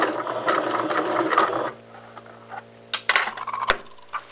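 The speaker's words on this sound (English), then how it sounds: "I'm going to go ahead and just sew all the way around the neckline" A sewing machine stitching a 5/8 inch seam around the neckline of a McCall's 7430 dress runs in a steady, busy whir, then stops, leaving a few mechanical clicks and ratcheting ticks.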